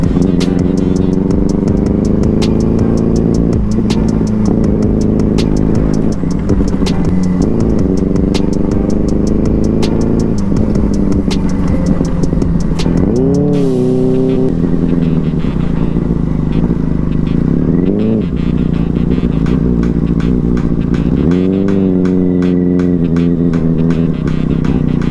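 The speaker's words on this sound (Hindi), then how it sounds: "थोड़ी सी ऑफ रोडिंग हो रही है अभी। इधर फिसलने का चांस भी बहुत ज़्यादा रहता है, थोड़ी धीरे ही बाइक चलाते हैं।" A Benelli 600i motorcycle eases slowly along a rough, slippery off-road track, its engine droning steadily close up with shifting revs and occasional clatter throughout.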